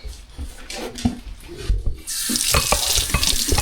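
After some handling clatter, water suddenly gushes from a tap, rushing and splashing steadily into a composting toilet container in an off-grid 4x4 ambulance camper.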